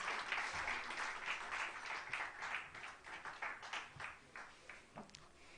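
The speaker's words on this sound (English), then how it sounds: "give them a hand of applause" An audience at a government agency launch ceremony applauds a choir with a full, continuous round of clapping that gradually eases toward the end.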